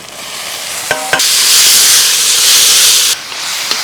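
Onions and tomatoes frying in a pan for capsicum gravy, a loud steady sizzle and hiss close up, with a couple of brief utensil clinks and a short drop in the sizzle near the end.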